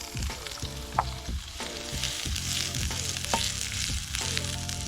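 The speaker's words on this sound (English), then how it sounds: "Just cook your onion in a low flame" Onion frying in a pan over a low flame at an outdoor camp, with a steady close sizzle and repeated scraping and clinking from stirring, with no talk.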